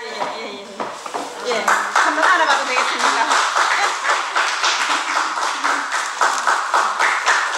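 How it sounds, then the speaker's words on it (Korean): A church congregation applauds at a Wednesday testimony service, with dense, steady clapping from many people in a reverberant room, loud and continuous throughout. "우리 다 같이 격려의 박수를 보내주시면 감사하겠습니다."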